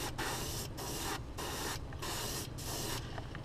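An airbrush sprays gold paint onto a shad-pattern fishing crankbait in a series of short, even hissing bursts with brief gaps between them, close but soft.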